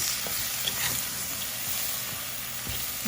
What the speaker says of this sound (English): give it a little cook for the mushrooms